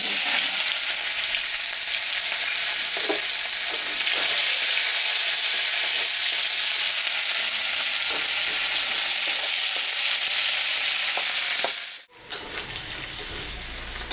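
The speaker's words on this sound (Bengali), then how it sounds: "আমি শুকনো লঙ্কা পাঁচফোড়ন সম্বরা দিলাম" Dried red chillies and panch phoron tempering sizzle steadily in hot oil, a dense continuous frying hiss with occasional stirring clicks, close and loud, cutting off briefly near the end before resuming more faintly.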